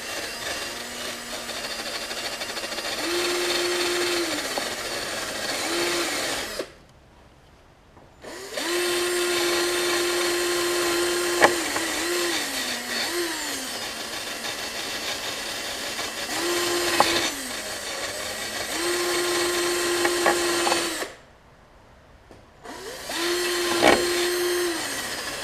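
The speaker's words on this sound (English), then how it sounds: "I'll repeat that for the other 4 bolts just to get the threads cleaned" Wire brush scrubbing the threads of bolts from a Murray riding mower deck, a steady harsh rasping that runs in long bursts with two short pauses, close and loud, with no talking.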